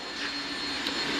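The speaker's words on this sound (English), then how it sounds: "This is a cordless vacuum cleaner." A brand-new Milwaukee cordless vacuum cleaner, boxy like a toolbox, runs with a steady whooshing whine while cleaning out a vehicle cab, close and continuous.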